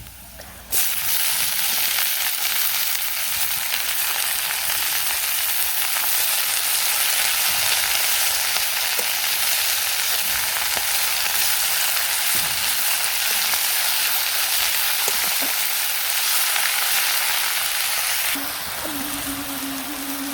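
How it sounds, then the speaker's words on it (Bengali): Spinach frying in a pan alongside already browned onions, a loud, steady sizzle and hiss that starts abruptly and keeps going close by, easing slightly near the end. "ওই পাশে যে পেঁয়াজ ভাজি হয়ে গেছে এখন শাক দিয়ে দিই পালন শাক"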